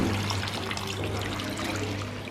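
Water pours steadily into a pot of beans and smoked sausages, a loud, continuous splashing stream that runs without a break and eases off slightly near the end.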